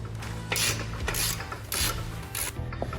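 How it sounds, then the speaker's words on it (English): A 15mm socket wrench loosening two nuts on a motorized bicycle, giving repeated close ratcheting rasps in four short bursts with a steady mechanical hum underneath. "just a 15mm socket, and we're gonna loosen these two nuts right here"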